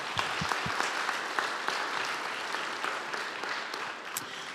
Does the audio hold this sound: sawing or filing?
no